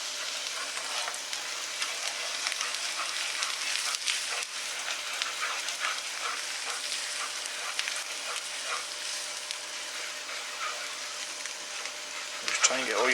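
Dry spices and ginger frying in a generous amount of oil for a lamb curry, a steady bright sizzle with occasional stirring scrapes, fairly quiet and continuous throughout.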